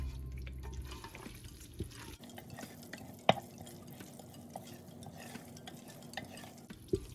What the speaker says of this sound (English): You need to stir this while it's foaming up for a good minute